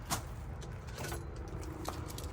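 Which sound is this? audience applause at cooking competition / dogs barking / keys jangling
keys jangling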